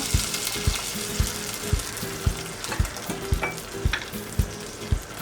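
Vegetables for a keto clear soup sizzle steadily in a pot as a cup of water goes in, with regular knocking thumps from stirring keeping an even beat throughout and no voices.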